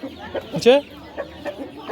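Live chickens cluck at a busy poultry market, a close rooster giving a loud squawk amid quicker clucks, while someone briefly speaks over the birds.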